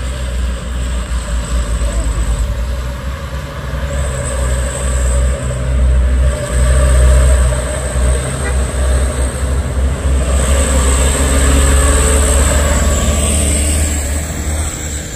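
A vegetable truck climbs a hill road, its engine droning loud and close with a steady low rumble that swells and eases, along with some passing traffic noise.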